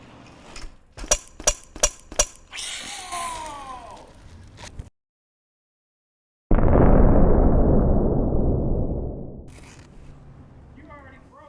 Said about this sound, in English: The shock exploded.